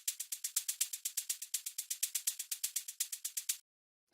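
Programmed hi-hat groove with varying velocities, a rapid even stream of crisp bright ticks with alternating accents, then stopping abruptly before one last hit.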